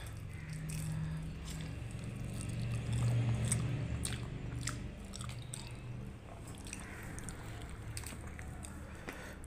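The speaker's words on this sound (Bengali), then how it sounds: "এই যে আমি খাচ্ছি" Someone eating lunch at home, chewing food with soft, close, irregular biting and mastication sounds over a steady low background hum, fairly quiet throughout.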